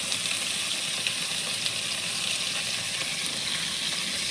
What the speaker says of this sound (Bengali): এটাকে একটু কষিয়ে নেবো ভালো করে